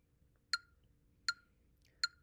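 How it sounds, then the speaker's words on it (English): A phone metronome app ticks at 80 beats per minute, three sharp evenly spaced clicks against near silence, crisp and close. "So I have my metronome app on my phone keeping track of the beat."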